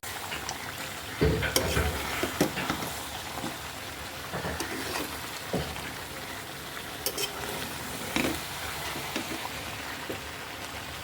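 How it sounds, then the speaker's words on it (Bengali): Beef curry with potatoes and chilli sizzles in a pan while a spoon stirs it, giving repeated close scraping and clattering strokes over a steady frying hiss. "এই যে আমি ঝালটা ঝালটা দিয়ে দিচ্ছি দিয়ে আমি ভালো করে নাড়াচাড়া দিয়ে নেব"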